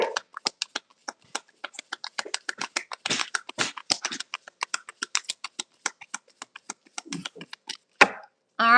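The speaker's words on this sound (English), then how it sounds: "I'm gonna do 3 more shuffles, see if anything else comes out" Tarot cards are shuffled by hand in a steady stream of quick, crisp riffles and taps, close and fairly quiet, ending in a brief louder rustle.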